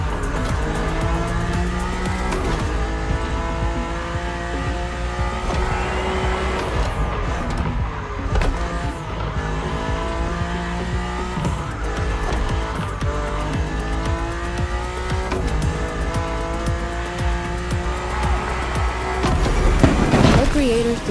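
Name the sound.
car driving in the video game The Crew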